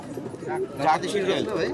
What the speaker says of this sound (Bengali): এটা কি কবুতর মামা?